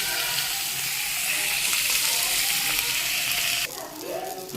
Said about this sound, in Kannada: ಇವಾಗ ಇಷ್ಟು ಫಿಶ್ ಫ್ರೈ ಮಾಡಿದ್ದೀನಿ